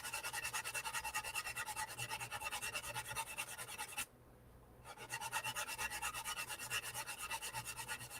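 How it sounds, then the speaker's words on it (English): Steady rhythmic sanding strokes rub a small panel flat, dense and close, continuing without pause for about four seconds, breaking off briefly, then resuming for several more seconds. "For now, I'm just going to sand it flat."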